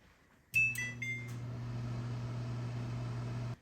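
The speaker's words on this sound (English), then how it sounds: "we're going to preheat the oven to 350." An oven's control panel beeps several times in quick succession as it is set to preheat to 350, then a steady low fan hum runs on, fairly close, with no talking.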